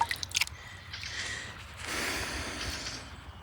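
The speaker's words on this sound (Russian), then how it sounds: "Просто сполоснем водички." Water splashes and drips while a well pump check valve is rinsed, a few sharp wet squishes at the start followed by softer sloshing and trickling, faint and close, with no talk.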